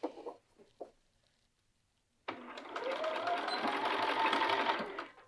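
A sewing machine runs steadily for about three seconds, stitching long sleeve pieces chained one after another under the presser foot, after a few soft handling taps and a pause.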